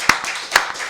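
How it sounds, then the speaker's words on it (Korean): Hands clap during a Wednesday worship service at a Korean Full Gospel church: a few sharp, close claps with softer ones between them, irregular and brief, with no talking. "우리 박수로 하나님께 영광 드리겠습니다"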